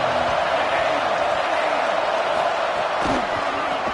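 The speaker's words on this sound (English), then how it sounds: "This crowd ready to make its presence known." A stadium crowd in the College Football 27 game roars as a constant, dense wall of cheering that stays level and loud, with a faint thud near the end.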